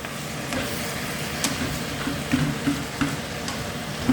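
Shrimp and spinach stir-frying in a pan, a steady close sizzle with soft scraping stirs every half second or so.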